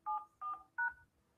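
Three touch-tone telephone keypad beeps sound in an evenly spaced sequence, clear and close, against a quiet background.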